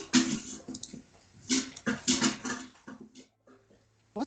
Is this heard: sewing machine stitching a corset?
no